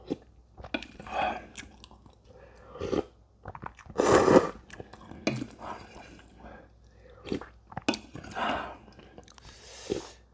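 Someone chews Ottogi kimchi jjigae ramen up close in moist, crunchy bursts, one loud bite near the middle, with brief quiet gaps and no speech.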